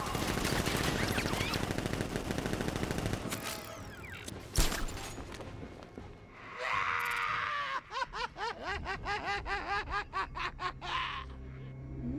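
Gunfire in the video game Batman: Arkham Knight starts as dense, loud automatic fire, then gives way to a sharp crack and a string of rapid, rhythmic mechanical pulses mixed with chaotic game noise.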